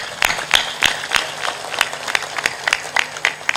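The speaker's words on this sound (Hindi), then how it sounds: "तालियां जोर से बजाया करो।" Rhythmic hand claps from an audience at a spiritual satsang gathering, sharp evenly spaced claps over a quiet background, moderately loud and steady throughout.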